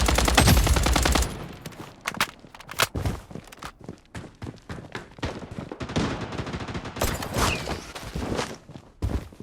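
Gunfire in the shooter game Blood Strike: a loud opening burst gives way to repeated sharp shots and rapid volleys at varying distances, mixed with footsteps and thuds, with no talking.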